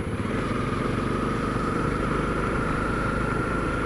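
A Honda CRF250L motorcycle engine drones steadily while riding along a country road, a continuous loud mid-pitched hum with a faint high whine, no voices.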